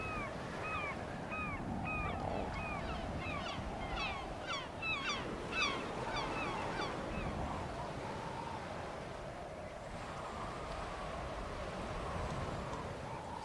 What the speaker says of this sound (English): A lot of creatures flying around. Some seagulls.